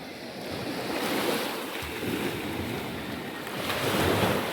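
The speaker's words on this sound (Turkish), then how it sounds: "Böyle başlıyor bayağı büyükçe güzel bir plajı var." Waves on a large, clean sandy beach with clear water, a steady broadband wash of surf mixed with wind buffeting the microphone, swelling slightly toward the end with no voices.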